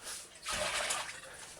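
Water splashes and pours out of a bowl in a short, close rush, then trails off into a softer trickle.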